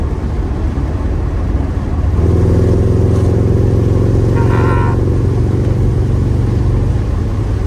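A 1967 Lincoln Continental V8 with Holley Sniper fuel injection idles steadily, then revs up into a loud, deep, rumbling acceleration that holds for several seconds, close by with no talking.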